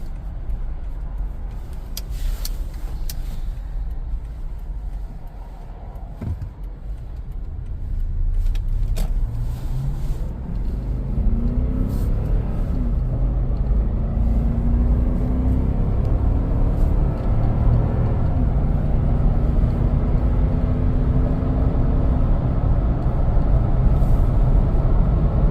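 A Lexus LX570 200 series cruising on the road, a steady low engine and tyre rumble with wind noise building as it gathers speed, plus faint interior clicks early on.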